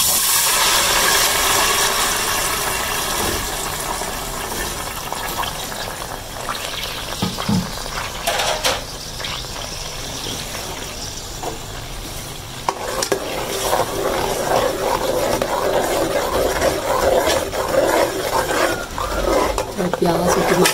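Ground onion, tomato and green chili paste frying in hot oil for a Punjabi chicken achar gosht, a broad steady sizzle with stirring clatter and louder spitting bursts partway through.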